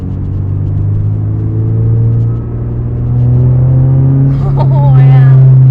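A Subaru BRZ set up for track driving holds a loud, steady engine drone heard from inside the car, its tone edging upward, with a voice breaking in near the end.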